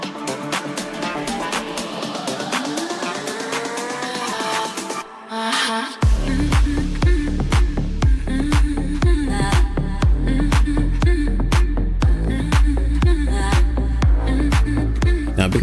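An AI-generated music track plays loud and full: a few seconds of melodic, tonal intro, a brief break, then a driving beat with heavy bass and steady percussion hits that carries on throughout.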